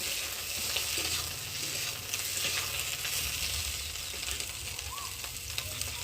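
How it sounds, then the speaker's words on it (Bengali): Cauliflower pieces fry in oil with a dense, steady sizzle and light crackle close by, holding at an even level throughout with no talking. "দিয়ে কপিটা একটু ভালো করে ভেজে নেব।"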